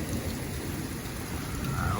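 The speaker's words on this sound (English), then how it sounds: "I hope you heard that thunder." Steady, hissing rain pours during a Texas thunderstorm, with a low rumble of thunder rolling beneath the downpour; no voices.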